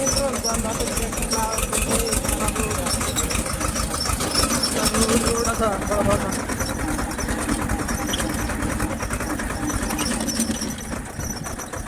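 A tractor engine runs steadily nearby with a rapid, chugging mechanical rhythm throughout, and a voice speaks intermittently over it.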